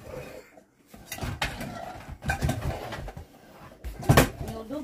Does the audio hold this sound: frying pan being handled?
yes